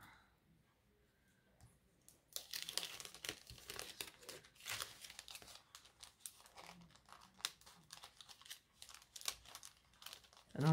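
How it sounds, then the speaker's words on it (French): Paper envelope crinkling and rustling as items are slid inside, a busy run of close crackles and scrapes after a quiet start, with someone speaking French at times. "Je vais tout glisser dans l'enveloppe."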